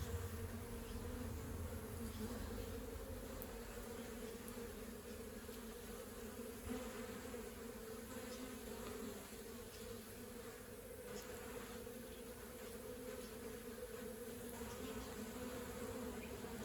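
Honeybees hum steadily inside a small winter mini nuc hive with a large patch of brood on the comb, a continuous close, even drone with no voices.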